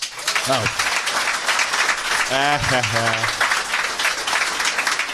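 A podcast audience applauds throughout, a steady wash of crowd clapping carrying the whole stretch while a voice speaks over it.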